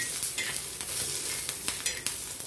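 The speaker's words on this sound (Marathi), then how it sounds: "अशा प्रकारे आपण मिरच्या मस्त भाजून घ्यायच्या तव्यावर." Green chilies roast on a tava in a small home kitchen for a flaxseed chutney, giving a steady close sizzle with frequent quick scraping and stirring strokes and no talk.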